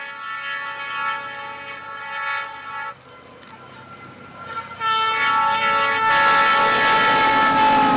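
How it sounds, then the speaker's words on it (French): A train fitted with a giant snowplow rumbles past in snowy conditions, its horn sounding in sustained tones before the rolling noise grows louder and fills the last few seconds. "Même les trains ont leur propre chasse-neige géant."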